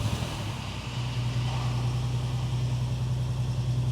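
Engine of a VW Passat R36 running steadily as the car is driven, a low droning hum with a constant tone and rumble, close and continuous with no talking.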